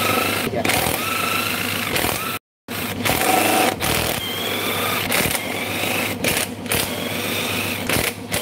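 A motorcycle engine runs at idle with a steady rattling hum, briefly cutting out once, while people talk nearby.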